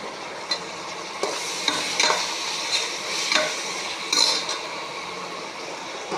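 Tomatoes and green chillies sizzle in a pan for chicken biryani while a metal spoon stirs and scrapes in a steady rhythm of close, clinking strokes over continuous frying.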